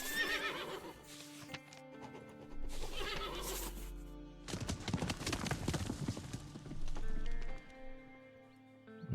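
A horse in the Western survival game Above Snakes whinnies loudly several times, with clopping hooves and a rush of movement between the calls, all close and clear.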